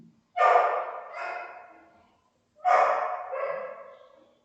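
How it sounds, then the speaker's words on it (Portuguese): A dog barks twice, each a loud close bark followed by a softer second part, separated by a couple of seconds of silence in an indoor room. "Corta aí o cachorro."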